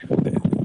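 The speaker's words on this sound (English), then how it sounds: "Is he getting trampled by horses?" Horses' hooves clip-clopping, a quick series of dull, close hoofbeats in an uneven rhythm over a brief stretch.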